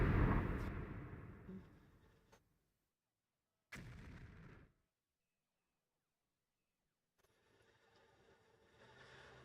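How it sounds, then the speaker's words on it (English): Explosions boom in heavy broadband bursts: a long rumbling stretch at the start, a shorter blast a little later, and a rising rush near the end, separated by near-silent gaps. "You hearing those explosions?"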